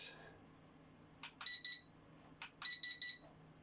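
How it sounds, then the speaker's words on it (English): A small toy drone emits short electronic beeps during calibration, two quick clusters of bright chirping tones separated by a pause, fairly faint over a quiet background. "So when it beeps once, it's slow mode"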